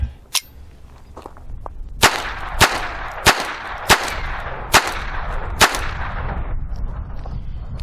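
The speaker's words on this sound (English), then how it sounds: "I'm gonna fire 10 rounds just to get the feel for this" Phoenix Arms HP22A pistol firing CCI .22 rounds, seven sharp close cracks spaced roughly half a second to a second apart, each ringing out briefly in an outdoor setting.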